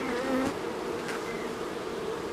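Steady buzzing of many Caucasian honeybees around a hive, a continuous droning hum that stays even throughout, with no voices.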